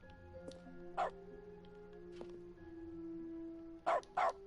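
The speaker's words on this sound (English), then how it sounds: "The interact button noise gets changed to dog barks" In The Stanley Parable video game, the interact button plays dog barks instead of its usual sound. Several short, sharp yips ring out separately, two in quick succession at the end, over a faint game tone.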